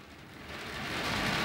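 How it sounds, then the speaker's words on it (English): Rain coming down at a fishing lake at dusk in cold, windy April weather, a dense continuous hiss that swells slightly louder as it goes, with no voices. "the rain's just starting to come down again"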